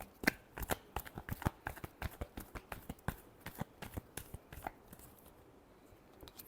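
Tarot cards being shuffled, a quick, close run of crisp riffling flicks and taps in steady rhythm that slows and fades toward the end, with no talk.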